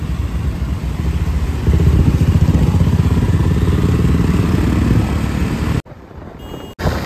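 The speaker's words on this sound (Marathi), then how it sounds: "आज बाईक राईड चाललंय" A KTM 250 motorcycle runs on an evening road ride, its engine a loud, steady close drone with wind rush and a brief dropout near the end.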